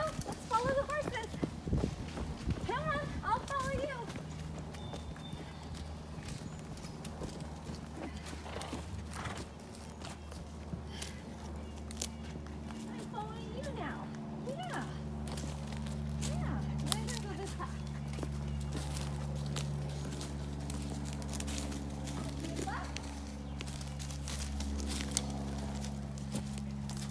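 Hooves clip-clop steadily as horses walk, with a low continuous rumble and occasional snorts or whinnies in the background; a voice speaks briefly near the start.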